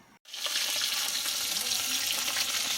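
Whole fresh fish frying in a pan of hot oil, a steady loud hiss and crackle that kicks in after a brief silence and holds evenly throughout, with no talking.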